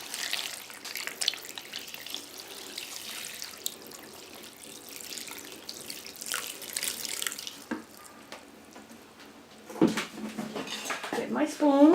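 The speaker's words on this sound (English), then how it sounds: "let's pour the water in and you'll see how fast that goes down" About a gallon of hot water splashes and gurgles steadily as it is poured into a container for toilet paper clay, with light clinks of dishes and a louder rush near the end.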